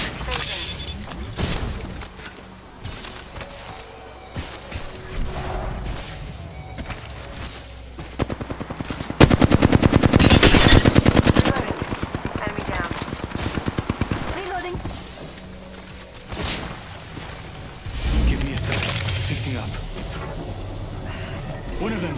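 Rapid automatic gunfire crackles through an Apex Legends firefight, with repeated bursts and a dense, loud volley near the middle. Other shots come and go, distant and close, with a little speech in places.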